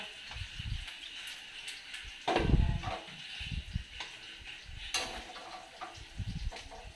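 Meat for Filipino humba sizzles and bubbles in a casserole pot, with scraping and clinking of a utensil against metal and a louder burst of frying partway through.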